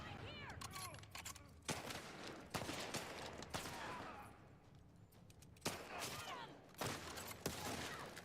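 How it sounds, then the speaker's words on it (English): Repeated bursts of gunfire in The Last of Us Part II, sharp cracks scattered across the scene over a dense, noisy game soundscape with voices talking at times. "Who else is shooting at me?"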